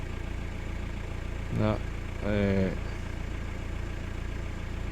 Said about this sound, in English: Let's just check this idle smooth running.